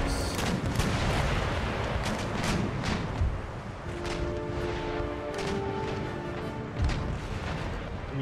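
Ship cannons boom repeatedly in Empire Total War naval combat, a dense and continuous barrage of deep blasts and crackling volleys rolling on without pause.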